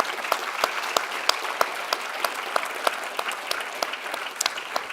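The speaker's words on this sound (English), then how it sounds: "warm round of applause" Delegates at a cleantech innovation conference give the organisers a warm round of applause, brisk clapping from a moderate crowd with distinct sharp individual claps standing out throughout.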